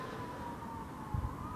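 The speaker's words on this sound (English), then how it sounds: "Siren." A siren wails steadily at moderate distance, its tone gliding slowly over a constant background rumble, with a brief low thump near the end.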